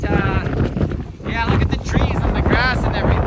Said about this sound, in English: I mean, it's crazy windy.